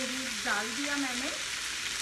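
Prepared spices go into veg chow mein frying in a hot pan, giving a continuous close sizzle, with a voice briefly heard over it.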